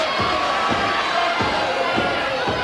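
A wrestling crowd boos and jeers as a heavyweight holds a foot across his opponent's throat, a continuous loud roar of many voices with rhythmic stamping or clapping beneath it.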